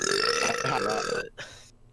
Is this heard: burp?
yes